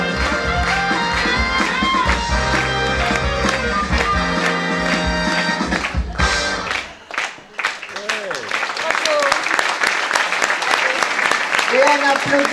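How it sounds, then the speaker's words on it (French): Audience applause at a fashion show for a cancer charity, sustained clapping rising over loud music that drops out midway before returning, with a voice heard faintly. "Et on applaudit très très fort cette première partie."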